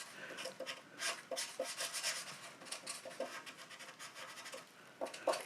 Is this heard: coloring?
yes